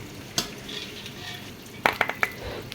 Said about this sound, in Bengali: এখন আমরা মাংসগুলো তুলে নিচ্ছি